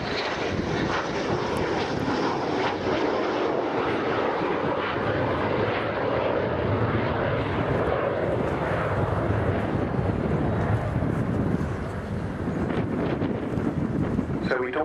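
Avro Vulcan XH558 bomber flying past at the RIAT air show at RAF Fairford, its engines a loud, continuous roar filling the whole stretch, buffeted by wind on the microphone, with a commentator's voice underneath.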